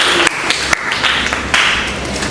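Clapping breaks out in a class session on video making, a busy, continuous patter of many hands with a few sharper individual claps, fairly loud and unbroken throughout.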